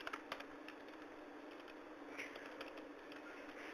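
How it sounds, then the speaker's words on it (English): Light tapping on a computer keyboard, quiet and close, in a short irregular run of keystrokes over a faint steady hiss. "Let me type it."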